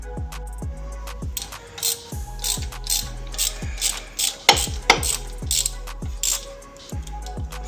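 A ratchet undoes 10mm bolts on the brakes of a Porsche Boxster 987, giving close, crisp repeated clicking bursts of the pawl in short swings, with occasional metallic knocks between strokes.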